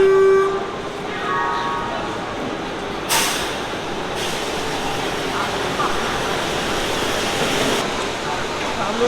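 The Kandari Express train pulling into Howrah station, a continuous rumbling wash of wheels and carriages with a short sharp burst of brake or air hiss midway, a loud station bustle around it.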